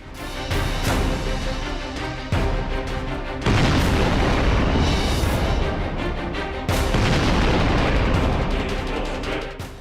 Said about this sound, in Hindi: पाकिस्तान ने फॉर्मेशन फायरिंग का कौशल दिखाया।